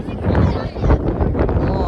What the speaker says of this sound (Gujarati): અત્યારે કઈ પવન આવે છે જોરદાર